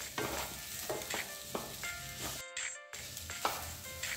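Mixed vegetables sautéing in a pan for a lapsi rava breakfast give a steady close sizzle punctuated by rhythmic stirring scrapes, with a brief cut to near silence midway.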